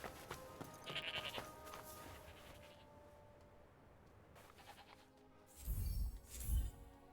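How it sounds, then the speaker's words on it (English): Sheep bleating in the video game Forspoken, a few clear bleats near the start followed by two louder, closer bleats toward the end over quiet game ambience and faint chiming tones. "Go, let's feed the sheep."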